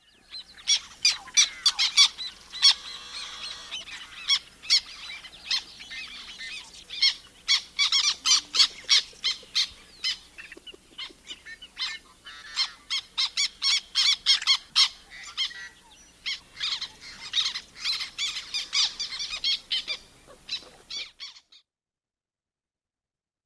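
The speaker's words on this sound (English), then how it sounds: "black tern has those harsh squawks, sounds like it might have swallowed a dog chew toy" A series of harsh, rasping black tern squawks repeating in quick bursts, fairly loud and close, with no other sounds, ending in silence.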